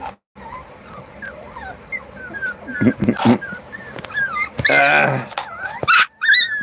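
Puppies whimper, yip and squeal in short high cries, close by, alongside a mother dog and bursts of a person's voice.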